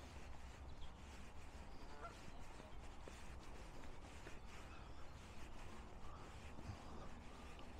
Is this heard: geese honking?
yes